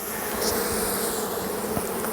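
Honeybees in an opened beehive hum in a steady, close, dense buzz, with individual bees flitting past the microphone over the continuous drone.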